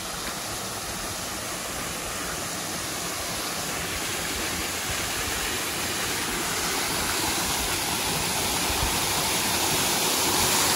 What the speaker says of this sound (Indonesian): Dan ini adalah tempat air terjun yang pertama.